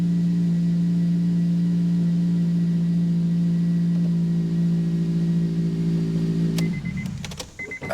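A 2008 Honda Civic Type R 2.0 petrol engine with an aftermarket exhaust idles steadily with a low, even hum, then the sound breaks off abruptly near the end with a few knocks.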